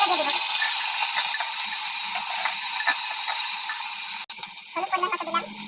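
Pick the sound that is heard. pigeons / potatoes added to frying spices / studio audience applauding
potatoes added to frying spices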